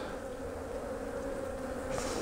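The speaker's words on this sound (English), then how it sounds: "there's a lot of bees on there" A dense, steady buzz of many bees crowding a hive frame, close by and unbroken throughout, with no talking.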